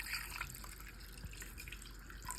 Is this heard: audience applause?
no